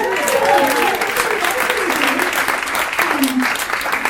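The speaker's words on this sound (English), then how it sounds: "Can we clap it up for that?" Comedy club audience at a stand-up show applauds loudly and steadily, a dense wash of clapping with scattered cheers and whoops running the full length at close range.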